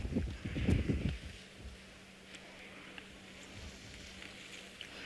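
Blustery wind gusts buffet the microphone on a morning safari drive in South Africa while elephants stand nearby, a loud rumbling burst at the start settling into a steady, softer whoosh.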